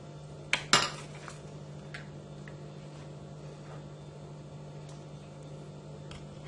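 A spoon clinks sharply against a bowl twice near the start while mixing mayonnaise into a vitamin E hair mask, then light scrapes and taps follow over a quiet steady hum.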